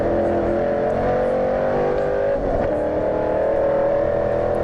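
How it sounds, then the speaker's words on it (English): Classic race cars at a Laude Classic Cars Power series race pass on the track, a continuous loud engine drone that swells slightly as the cars come through, with no talking over it. "there's the fine cars coming through there"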